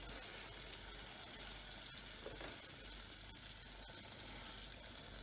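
KFC-style chicken pieces for a donut burger frying in hot oil on a stove at medium heat, giving a steady, even sizzling hiss that runs unbroken throughout, fairly quiet and with no talk.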